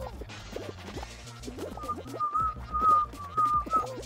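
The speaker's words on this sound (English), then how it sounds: "I'm trying to whistle." A person attempts to whistle while playing the Block Party game level, producing a thin, wavering, breathy tone that comes and goes over about two seconds, sitting above steady, rhythmic game music and scattered short sound effects.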